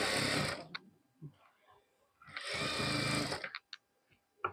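A sewing machine runs in two loud bursts of stitching fabric, each lasting about a second, with brief quiet gaps and small clicks and handling noises in between.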